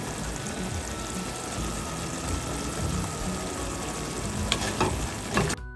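Masala gravy with a handful of mint and coriander sautéing in a pan, a steady, dense sizzle with scraping stirs, loud and close, ending with a few sharper clinks, with no talking.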